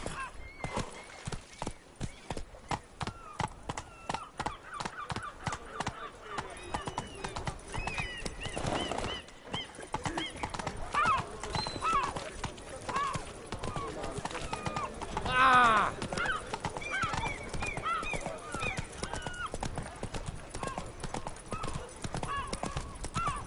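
Roach, Geralt's horse in The Witcher 3: Blood and Wine, clip-clops steadily through the clip with a brief whinny near the middle, the hoofbeats close and clear under spoken lines.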